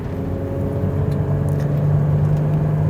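A 1998 Toyota 4Runner driving on a smooth road in four-wheel drive, heard from inside as a steady low engine drone and road rumble with a faint whine rising slightly in pitch, no talk.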